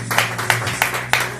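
Congregation clapping hands during a church service, four loud, evenly spaced bursts of claps over a steady low hum.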